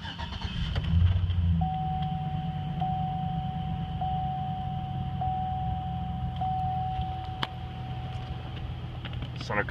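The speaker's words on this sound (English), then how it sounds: "We'll start her up, let you hear it run" A 2005 Nevada Edition vehicle's engine turns over and settles into a steady idle nearby, with a thin warning chime repeating at regular intervals over the hum.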